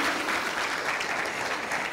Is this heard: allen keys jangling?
no